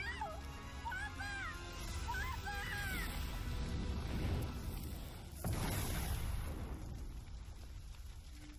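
An explosion in the animated series Nomad of Nowhere, a deep booming burst with a sharp crack midway, surrounded by dense rumbling noise, screams and dramatic sound effects.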